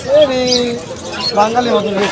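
Pigeons cooing at a busy pigeon market, a soft warbling coo heard close by and partly masked by people talking over it throughout.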